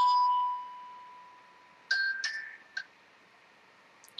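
A telephone rings with a clear electronic tone, one long steady note followed by a few shorter chiming bursts, fairly quiet and alone against near silence.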